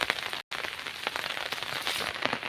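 Rain falls steadily onto a village road running with water, a dense even hiss speckled with crackling drop impacts, loud and close, with one very brief dropout near the start.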